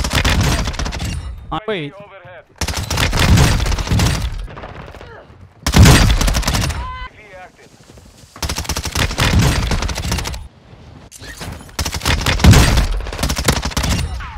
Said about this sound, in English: this SMG is the burst fire SMG